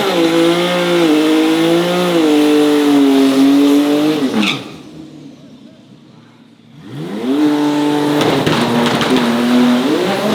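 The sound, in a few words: Nissan R35 GTR drag racing pass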